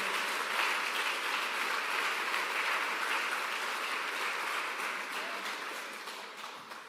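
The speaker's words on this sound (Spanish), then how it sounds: "Dale un fuerte aplauso al Señor." Dense, sustained applause from a church congregation fills the space, steady and loud before tapering off slightly at the end, with no voices over it.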